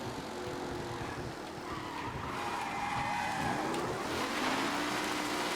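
Race cars on the final lap in Mafia: Definitive Edition roar past with engine drone, rising and falling pitch and tire skids, a steady loud blend of several vehicles, no talking.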